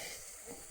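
Luchi, puffed wheat-flour bread, frying in hot oil in a home kitchen gives off a faint, steady hiss of sizzling that holds evenly through a brief moment with no talk.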